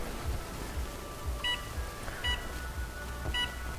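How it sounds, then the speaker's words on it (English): A kitchen timer being set while brewing hop tea with a full ounce of Citra hops gives three short, clear electronic beeps, spaced about a second apart, over a low steady background hum. "you can set your timer."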